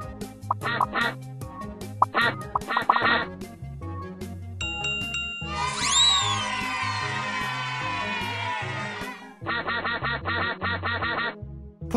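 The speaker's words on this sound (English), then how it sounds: "Oh no! All the ducks have escaped!" Cartoon ducks quack repeatedly in the educational video game Teach Your Monster to Read, set over bright background music with brief jingly sound effects.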